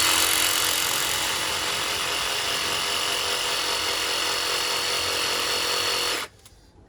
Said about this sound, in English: So I've got my trusty jigsaw. I set it on rough cut because this hasn't got to be perfect.